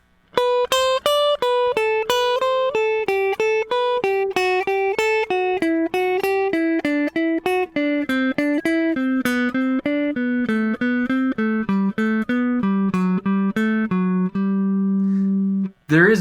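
A guitar steps a CAGED pattern downward in quick, evenly picked single notes, close and clear with no voices, gradually descending before settling on a long held low note.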